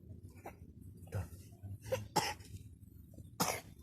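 A child coughs in several short, separate bursts at irregular spacing, with quieter breathy sounds between them, close and fairly clear.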